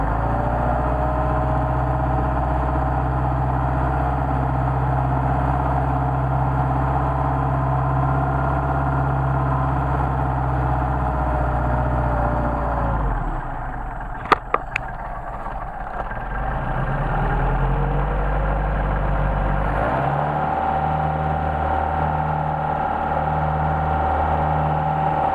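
A Mercedes 190SL engine with Solex carburetors idles steadily while warming up, a continuous low rumble that dips and roughens briefly with a few sharp clicks midway, then settles back into an even idle.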